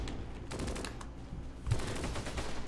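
Sustained German machine gun fire in the Close Combat wartime strategy game, a dense rattling burst running throughout with a louder surge midway, no talking.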